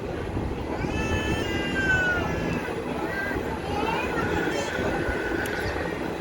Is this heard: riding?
yes